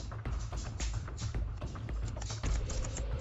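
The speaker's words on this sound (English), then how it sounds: "If you can hear those nails clicking in the background" A miniature dachshund's nails click on the floor in quick, irregular light taps, close and fairly steady over a low background hum, with no talk.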